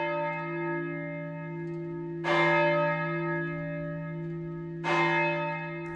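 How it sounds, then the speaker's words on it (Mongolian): A village church bell rings at night from far away, two clear strikes a few seconds apart, each leaving a long humming resonance that lingers between them. "Тэгтэл тэртээ холоос тосгоны тэндээс хонхны дуу дуулдав."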